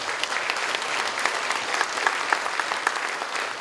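Dense applause from a gathered audience welcomes five guests to a plaque unveiling at the opening ceremony of a regional mental health center, an even wash of many hands clapping at moderate volume throughout.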